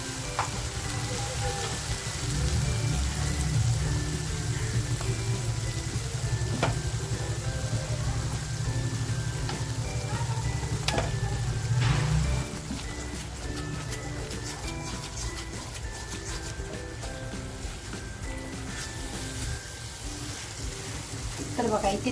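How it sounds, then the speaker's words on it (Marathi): Ground masala paste frying in oil in a pan for smoky paneer masala, a steady loud sizzle running throughout with occasional stirring clinks, the sizzle easing slightly partway through. "आता जो मसाला वाटून घेतलाय तो मसाला टाकते"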